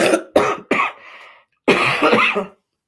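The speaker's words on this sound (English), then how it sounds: "I do have a bit of a cough, so that might happen throughout our video" Three sharp coughs in quick succession, then a short pause and a longer, rougher cough, close and loud with no talking.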